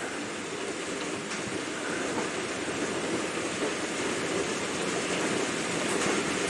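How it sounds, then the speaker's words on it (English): Heavy rain with hail hammering down outside a house in a storm, a steady dense roar of broadband hiss that stays loud and unbroken throughout, no voices. "Dude, that rain is nuts."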